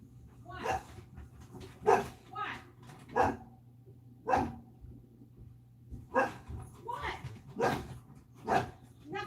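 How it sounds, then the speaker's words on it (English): A dog barks repeatedly in short bursts, loud and fairly close, with a steady low hum underneath. "What are you barking at?"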